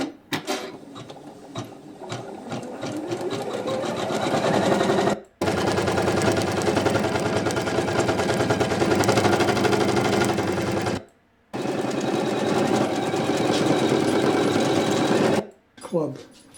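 Janome Memory Craft 500e sewing machine stitching in a rapid, even mechanical rattle, running loud and close in three long runs separated by brief stops.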